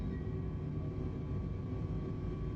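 Airliner jet engines spool at takeoff thrust in Microsoft Flight Simulator 2020, a steady, loud, broadband roar with a faint tonal whine, continuous and unbroken throughout with no voices.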